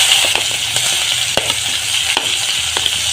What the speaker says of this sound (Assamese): পিঁয়াজখিনি অকণমান মই ভাজি ল'ম এনেকুৱা হোৱালৈকে